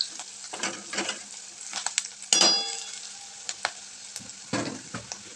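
Turmeric and asafoetida sizzle in hot oil for a potato sabzi, a steady frying crackle with intermittent stirring scrapes and a sharp clatter midway, close and moderately loud.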